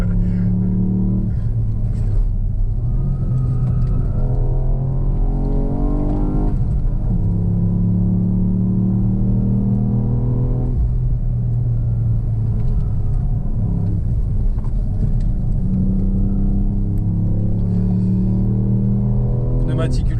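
A Ford Fiesta ST Mk8 with a three-cylinder engine climbs a mountain pass, its steady droning hum rising and falling in pitch with the revs throughout while people talk inside the car.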